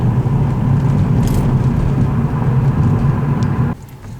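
Car with a PowerShift dual-clutch transmission easing off the brake and beginning to roll, a steady low engine and drivetrain rumble heard up close that drops away abruptly near the end.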